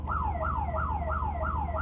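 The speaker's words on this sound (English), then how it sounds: "there's an alarm on the bottom one, which from the outside is crazy loud." An electronic alarm on a 2021 Renegade Verona 40 VBH motorhome wails in a steady rising-and-falling siren pattern, repeating about every third of a second, loud and continuous.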